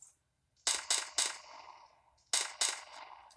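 Gunfire in the World War Heroes video game comes as two quick bursts of sharp shots, three then two, crisp and close against near silence.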